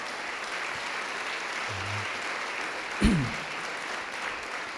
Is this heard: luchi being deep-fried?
no